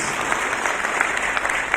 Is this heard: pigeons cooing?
no